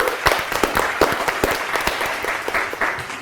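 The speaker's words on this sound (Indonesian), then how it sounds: "Oke, beri tepuk tangan dong." An audience at an Indonesian talk show claps in sustained applause, a dense patter of many hands at steady volume throughout.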